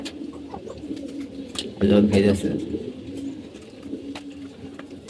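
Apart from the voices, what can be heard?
pigeons cooing while feeding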